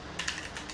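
Keys clatter on a mechanical computer keyboard, a few quick close clicks typed in a short burst over faint room noise.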